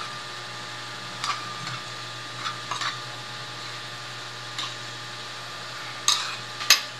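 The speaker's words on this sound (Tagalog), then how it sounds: "nalagyan na natin yung toyo, suka. Haluin lang natin ng bahagya." Chicken adobo with soy sauce and vinegar is stirred gently in a pot, a low simmering hiss broken by a few scattered spoon scrapes and clinks, quiet and close.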